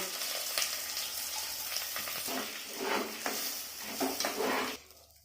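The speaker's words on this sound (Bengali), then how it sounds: "চালটা আমি একটু ভেজে নেব।" Polao rice with raisins, cardamom and cloves sizzling and being stirred in a pan, a steady close frying hiss with scraping stir strokes before it cuts off.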